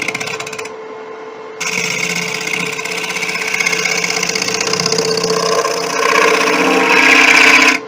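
A negative rake scraper works a beech and bubinga bowl spinning on a wood lathe, giving a continuous rough scraping hiss over the lathe's steady hum that grows louder toward the end.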